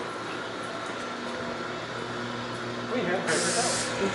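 An air compressor runs with a steady low hum, then a loud burst of hissing air near the end as it is switched off.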